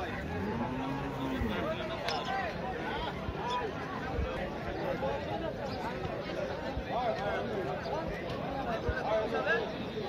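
Sindhi cow at a busy cattle market in Rajshahi, with low mooing and lowing from cattle amid constant crowd babble and nearby voices talking throughout.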